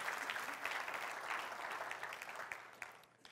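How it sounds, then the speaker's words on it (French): Congregation applauding during a church sermon, a steady, faint wash of many hands clapping that gradually thins out toward the end, with no voices over it. "Est-ce qu'on peut l'applaudir? L'acclamer pour qui il est."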